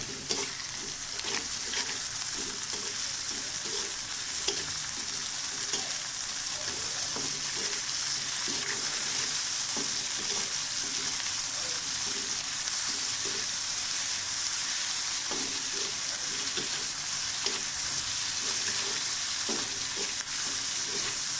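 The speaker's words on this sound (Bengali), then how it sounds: "পেঁয়াজগুলো খুব সুন্দর করে ভেজে নেব" Onions and green chillies frying in a pan for a jackfruit-seed egg and lentil dish, with a steady, loud sizzle and crackle running throughout and occasional stirring scrapes, no voices.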